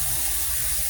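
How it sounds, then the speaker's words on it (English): Water runs and splashes at a bathroom sink as someone rinses their face, a steady close wash of running-tap sound filling the short moment with no talking. "Let me put some water on my face."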